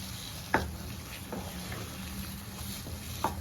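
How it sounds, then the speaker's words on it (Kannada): A spoon stirs pineapple kesari with ghee in a pan, giving a soft continuous sizzle with a few sharp scraping knocks spaced apart, fairly close and quiet. "ಸ್ವಲ್ಪ ಮೇಲ್ಗಡೆ ತುಪ್ಪ ಹಾಕೊತಾ ಇದ್ದೀನಿ. ಈ ಥರ ಮಿಕ್ಸ್ ಮಾಡ್ಕೊಳ್ಳೋಣ."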